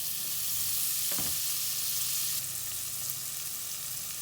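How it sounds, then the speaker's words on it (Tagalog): Butter sizzles and fries steadily in a hot soup pot, a dense, loud crackling hiss with a brief stir or clatter partway through. "Mainit na po tong pot. Maglagay po tayo ng butter."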